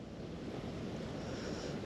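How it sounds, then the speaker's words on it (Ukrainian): Strong autumn wind sweeps a Dnieper riverbank with whitecaps on the water, a steady broadband roar of gusts and lapping waves with no break, buffeting the microphone. "Піднявся вітер серйозний."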